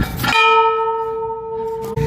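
A small bell struck once at the World Peace Dome in Pune, a loud, clear metallic strike that rings out with a sustained tone and fades over about two seconds.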